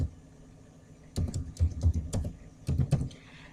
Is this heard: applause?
no